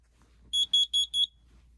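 A Kidde combination carbon monoxide and smoke alarm sounds during a test, giving four sharp, shrill electronic beeps in quick even succession, loud and close in a quiet room.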